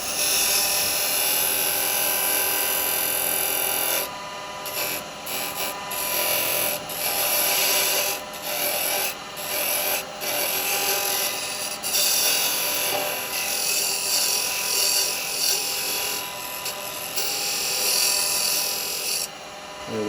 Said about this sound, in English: let me see if I can get in there with a square chisel